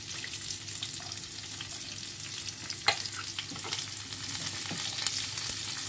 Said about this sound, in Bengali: খুবই লাইট ফ্রাই হবে, তার সঙ্গে দিয়ে দেবো ক্যাপসিকাম গুলো।